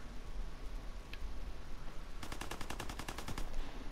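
Gunfire in Call of Duty WWII: a brief, scattered opening leads into a fast burst of automatic shots, loud and rhythmic.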